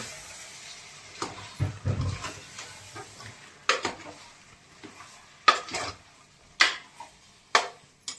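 Chicken pieces are tossed with spices in a pan, giving irregular clanks and scrapes of a utensil against metal, close and intermittent with short pauses between strokes.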